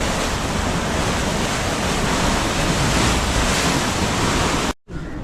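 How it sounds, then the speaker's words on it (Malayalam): River water released from Pechiparai dam rushes past in a dense, loud, unbroken roar, close by and without voices, cutting off abruptly near the end. "പേച്ചിപ്പാറ ഡാമിൽ നിന്നുള്ള ജലമാണ് ഇവിടേക്ക് ഒഴുകിയെത്തുന്നത്"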